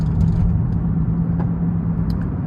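Steady low road rumble inside a moving Honda car with worn-out tires, a constant droning hum heard close with no talking.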